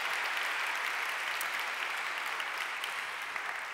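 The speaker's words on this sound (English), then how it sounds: "Round of applause for Stuart." An indoor audience at a peace prize ceremony claps steadily for Stuart Rees, a dense, even applause that holds at full strength without cheering or talk.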